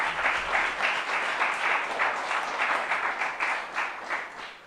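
An audience at a mayor's pilot-program launch event applauds for a city director and her team, a sustained, moderately loud round of many hands clapping with gentle swells, heard on its own without speech.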